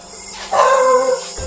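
A single loud, close dog bark, short and sharp, standing out clearly against a quiet background.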